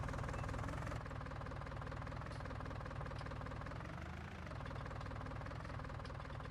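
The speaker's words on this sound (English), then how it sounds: "So this has a 3-cylinder engine looking at it." A three-cylinder tractor engine in the Farming Simulator 19 video game idles with a steady, dense, knocking rumble. It stays loud and constant with a slight dip near the end and no talk over it.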